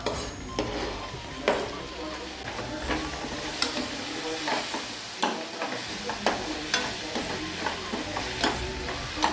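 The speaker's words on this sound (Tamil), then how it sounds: "இது பார்த்திங்கன்னா லோ ஃப்ளேம்லேயே வச்சு நல்லா வணக்கி விடணும்" Ground tomatoes for egg kurma cooking down on a low flame, with frequent metallic scrapes and taps of a spoon against the pan over a soft sizzle, close and rhythmic.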